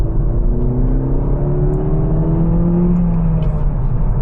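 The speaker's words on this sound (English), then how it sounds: "the thing that surprises me with the engine straight away is that it doesn't feel like a turbo" Turbocharged engine of a Citroën DS5 hums from inside the cabin while driving, its pitch climbing gradually then easing as the car accelerates, steady and continuous over road noise, with no one talking.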